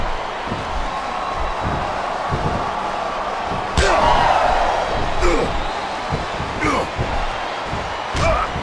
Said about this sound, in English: What a fierce kick.